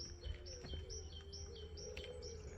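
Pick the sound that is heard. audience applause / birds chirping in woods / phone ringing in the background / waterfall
birds chirping in woods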